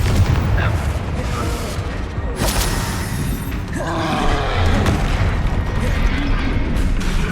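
The Bombarda explosive spell cast during combat in the video game Hogwarts Legacy: booming blasts and crashing impacts over a dense, constant din of battle effects, with a voice calling out spell names.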